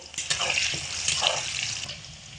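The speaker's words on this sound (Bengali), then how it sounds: "আলু ভাজার সময় স্বাদ মতো লবণ দিয়ে দেব" Potatoes frying in hot oil in a home kitchen, cooked over medium-high heat for a vegetarian potato, pointed gourd and stem dish: a steady, close sizzling hiss with bright crackle throughout, no talk.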